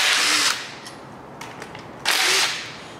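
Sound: power tool removing 10mm bolts from LS V8 coolant lines

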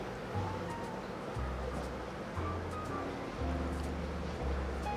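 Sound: strong water movement from aquarium sump outputs

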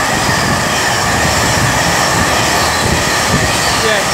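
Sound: train City of Edinburgh 391.30 passing, London Euston to Manchester

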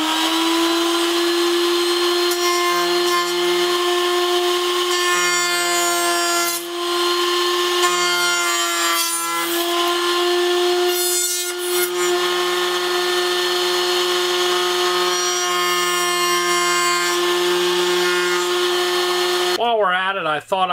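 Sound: router rounding over board edge with top bearing pattern bit

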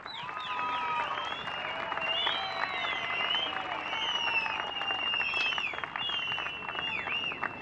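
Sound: audience applauding the national futsal and football teams

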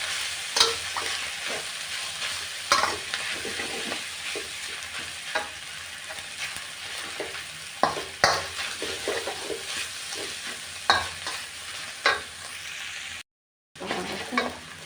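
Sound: stir-frying fermented pork sausage (nham) fried rice with egg

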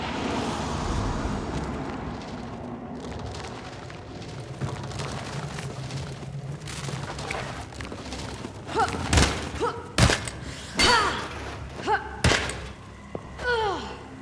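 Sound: gunshot in the video game Hunt: Showdown

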